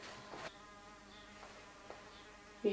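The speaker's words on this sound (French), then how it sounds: "Vous entendez l'abeille? Elle en fait du bruit, je trouve." A single bee buzzing near a woodworker shaping a barrel-stave cheese board, a faint thin hum that drifts closer and farther, interrupted by soft workshop knocks and quiet handling noise.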